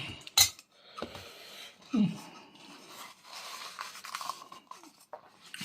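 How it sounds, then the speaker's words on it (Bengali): A chapati is dragged around a bowl to scrape it clean, producing quiet, irregular scrapes and a few sharp clinks against the dish, close up with short pauses between. "রুটিটা দিয়ে পুরো বাটিটা চেঁচে নিলাম"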